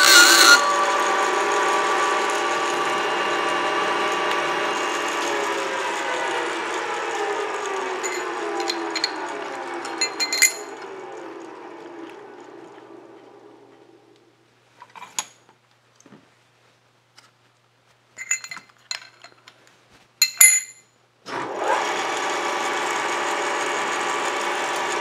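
Old power tapping head tapping holes in 316 stainless steel: a motor whirs steadily, then winds down and goes quiet. Brief clicks and short bursts of machine noise follow before the motor starts running again near the end.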